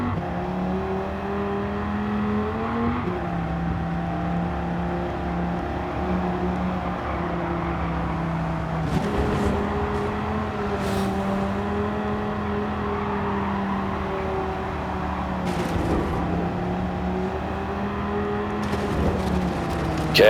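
A 2013 Dodge Viper in Gran Turismo 7 holds a steady high-pitched engine drone at top speed, about 215 mph down a straightaway. The tone dips briefly at gear or throttle changes, and a few faint clicks sit over it.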